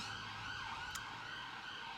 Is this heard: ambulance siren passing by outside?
yes